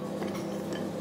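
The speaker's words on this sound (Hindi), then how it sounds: "अब हम इस भीगे हुए पोहे के ऊपर तड़का डाल देते हैं और डाल देते हैं भुनी हुई मूंगफली। इसे हम बहुत अच्छे से मिला लेंगे" Soaked poha being stirred and mixed with a spice tempering and roasted peanuts, giving a steady, close scraping and clinking of a spoon against a pan that continues without pause and without any talking.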